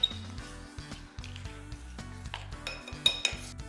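Potato pieces being mixed in a bowl with corn flour, pepper and salt, heard as close clinks and scrapes of a utensil against the bowl over a few seconds.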